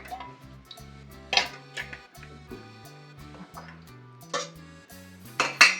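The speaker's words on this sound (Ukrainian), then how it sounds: "Так, кришкою накрию." Lid put on a jar of pickled cucumbers, zucchini, peppers, carrots and onions, heard as several sharp metallic clinks and clatters spaced irregularly over a ringing kitchen background.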